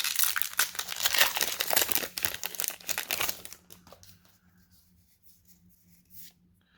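Foil wrappers of Time Spiral Remastered card booster packs crinkle and tear in close, busy bursts for about three and a half seconds, then fade to a few faint rustles and card handling sounds.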